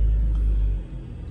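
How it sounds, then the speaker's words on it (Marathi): A car engine idles with a steady low rumble, loud and close, then the level dips slightly as it keeps running; no talk is heard. "गाडी चालू गाडीच"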